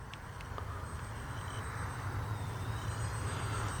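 A small X-Fly P-68 radio-controlled model airplane, a simple four-channel beginner plane without flaps, flies overhead as it lines up to land, giving a faint, steady electric motor drone over outdoor wind and background noise.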